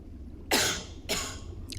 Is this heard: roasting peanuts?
no